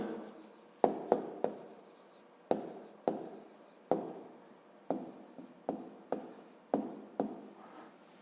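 Pen writing out a physics exercise answer on paper: a series of short, crisp scratchy strokes in irregular bursts with sharp starts and quick fades, close and quiet, no talking.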